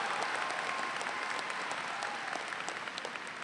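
A high school graduation crowd applauds and cheers for a commencement speaker, steady dense clapping with scattered whoops, filling a large hall evenly throughout.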